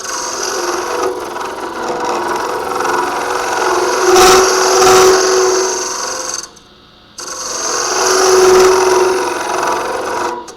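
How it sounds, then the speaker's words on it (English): A carbide scraper rasps steadily against spinning wood on a lathe, loud and continuous, with a brief pause before the scraping resumes. "This is scraping, not cutting or slicing."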